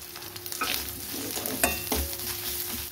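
Onions frying in a pan with chilli, turmeric and cumin powders just added, giving a steady low sizzle with occasional stirring scrapes and clatters close by.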